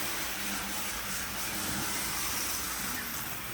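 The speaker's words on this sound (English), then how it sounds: "you can hear it spinning, the wheels spinning" Steady whirring hiss of vintage HO scale model train wheels spinning, a continuous mechanical rush that holds fairly even throughout, no talking.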